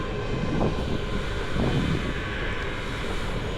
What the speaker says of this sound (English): Now the train comes.